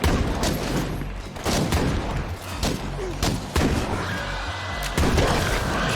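Video game gunfire of sharp, loud shots comes in a rapid, uneven volley from near at hand, over a constant dense din of combat.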